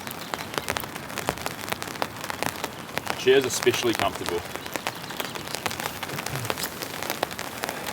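Heavy rain patters steadily on a tent during winter camping, a dense continuous hiss with scattered sharper drops, while someone speaks briefly over it.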